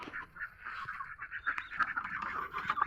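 Busy poultry chatter, a steady flock of clucks and squawks close by, overlapping continuously with no voices.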